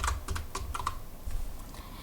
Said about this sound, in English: I am not used to this keyboard.